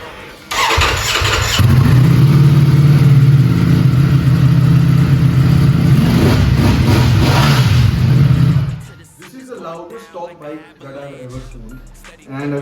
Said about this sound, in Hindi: This is actually racing bike Ducati Panigale V4S है।